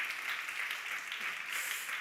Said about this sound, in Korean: 우리 박수로 축복하겠습니다